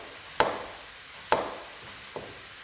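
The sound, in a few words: knife slicing cucumbers thin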